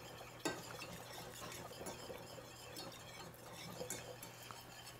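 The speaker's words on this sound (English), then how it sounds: "Keep stirring so that the bottom of that doesn't scorch." A flour paste for gravy cooks in a pot while it is stirred constantly to keep the bottom from scorching, making quiet scraping swirls with an occasional utensil clink over a low steady hum.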